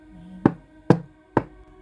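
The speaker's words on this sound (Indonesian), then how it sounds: "aku ngerasa ada yang ngetuk pintu" Three sharp, evenly spaced knocks on a door sound close and clear, each a hard single rap with a short decay, with no voices.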